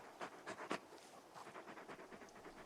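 Torgal, the big wolfhound companion in Final Fantasy XVI, pants in quick rhythmic breaths, close and fairly soft, with no talk over it.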